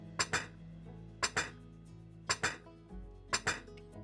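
Plates are set down one after another at a table, four separate clinks of dishware at roughly one-second intervals, each a sharp ringing knock with a short tail, in an otherwise quiet room.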